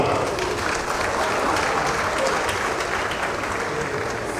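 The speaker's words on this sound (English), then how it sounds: "Can you please clap for him?" An award ceremony audience claps for an honoree, dense and even applause from a large crowd, loud and sustained with no breaks or voices standing out.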